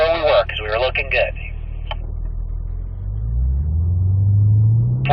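Cadillac V-series car on a race track, its engine rising in a low, swelling drone over the latter half, with a voice speaking briefly at the start.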